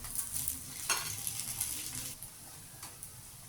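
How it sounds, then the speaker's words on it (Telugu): Poha cutlets shallow-frying in oil in a pan, with a soft steady sizzle and a few short scraping stirs from spoons turning them, fairly quiet and close, no voices. "2 సైడ్స్ గోల్డెన్ కలర్లోకి వచ్చే వరకు ఇలాగే ఫ్రై చేయాలి"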